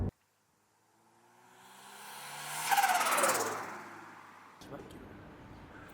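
A 1985 Toyota AE86 Trueno pulls in fifth gear from low revs, its engine note swelling gradually to a peak mid-clip before easing into steady road and wind noise.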